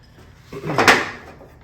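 A wooden drawer fitted with a handmade walnut pull slides and knocks shut once, a single short wooden bump that swells then fades, close by with no talking.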